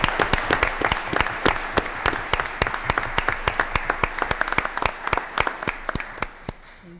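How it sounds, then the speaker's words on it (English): Applause for two school bus drivers at a school board meeting: dense, steady clapping from a room of people for about seven seconds, loud and close, thinning slightly toward the end. "a round of applause for these two individuals."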